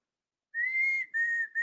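A person whistles a call through the fingers, imitating a signal whistle: a long steady high note followed by a shorter repeat, loud and close with no other sound.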